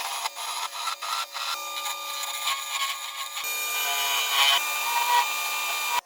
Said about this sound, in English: Mount to lathe and turn until shaped and round.